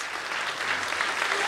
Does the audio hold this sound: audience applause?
yes